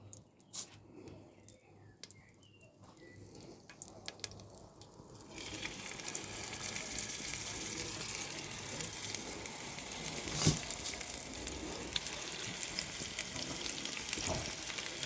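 Meat for a pot-au-feu hits hot fat in a pot and starts sizzling: quiet at first, then a loud, steady, close frying hiss with a few small pops, and no talk.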